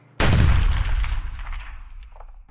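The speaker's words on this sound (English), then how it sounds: "then you hear that crack of that first round" A single sharp gunshot crack bursts out loud and close, then rolls away in a long echoing tail across open ground.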